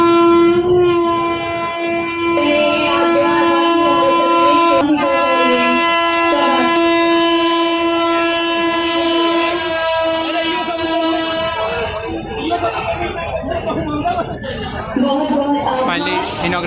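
An Indian Railways train at Mau railway station during an inauguration event sounds a long, loud, sustained horn while running, then the horn cuts off and rumbling and clatter of the moving train with crowd noise follow.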